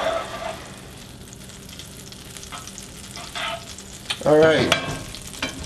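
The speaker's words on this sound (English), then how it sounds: "Now you can tell that it's starting to bubble in the skillet, which is exactly what we want." Onions cooking in butter in a skillet give a soft, steady sizzle and bubbling, with a scrape of stirring near the end. One short spoken word comes just before the stirring.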